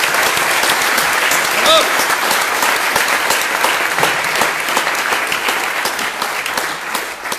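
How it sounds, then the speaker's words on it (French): Audience at a roundtable conference in the French National Assembly gives loud, continuous applause throughout, filling the room evenly. "J'invite tout le monde à se joindre à moi pour vous remercier et vous applaudir."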